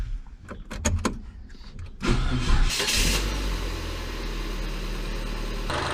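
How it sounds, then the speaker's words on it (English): A car engine cranks and catches around the two-second mark after a few short clicks, then settles into a steady, close idle that runs alone to the end, warming up before an oil and filter change. "The next step is just to run the engine, and we'll just get a bit of warmth into the engine."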